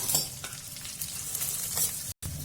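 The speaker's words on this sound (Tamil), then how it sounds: "இது கூடவே இந்த சின்ன வெங்காயம் சேர்த்து வதக்கிப்போம்" Garlic and small onions sauté in a pan, a steady moderate sizzle with occasional stirring scrapes, close by, with a brief dropout near the end and no one speaking.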